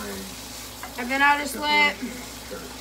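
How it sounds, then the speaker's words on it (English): A tomato fries in a pan with a soft, steady sizzle running beneath a person talking. "I let the tomato cook"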